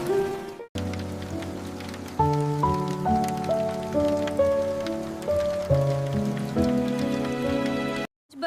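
Heavy rain in a cartoon patters as a steady hiss of drops under a stepping melodic music track, ending in a brief silence.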